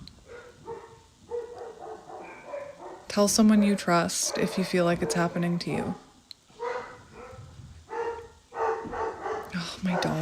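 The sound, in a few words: dogs barking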